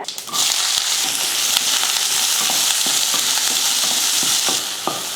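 Onion, mustard seeds and green chillies sauté in hot oil with curry leaves, a loud, close, steady sizzle punctuated by periodic spatula scrapes against the pan.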